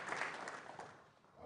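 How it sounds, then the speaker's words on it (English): Audience applause at an Army Combatives Tournament trophy ceremony, a steady wash of clapping from a crowd that stays fairly even and then thins slightly toward the end. "please give a big round of applause"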